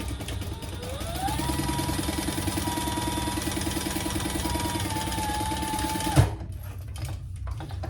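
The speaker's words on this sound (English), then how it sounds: "And then I'm gonna sew that side down" A sewing machine stitches down the side of a cotton bag with a fast, steady mechanical whir and rhythmic needle patter, close and continuous for about six seconds before stopping with a thunk.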